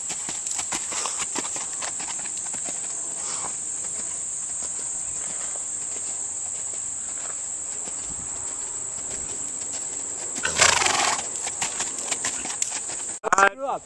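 A horse canters in an arena with soft rhythmic hoofbeats, heard faintly under a constant high insect chirr, while people talk now and then.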